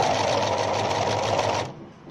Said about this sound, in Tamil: இதன் பின்னர் மீண்டும் தைத்து பார்த்தோமே ஆனால்